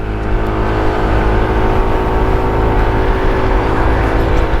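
A SYM ADX 125 scooter, a 12 horsepower machine, drones along at steady cruising speed with a constant engine hum and heavy low wind rumble, loud and close throughout.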